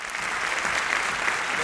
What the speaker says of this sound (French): On les applaudit un petit peu plus fort que ça.